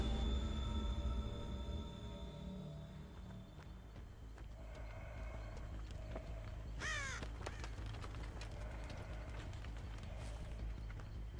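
Crows cawing in Dead by Daylight, a quick burst of several harsh caws in the middle over a constant low rumbling game ambience with scattered footstep-like thuds.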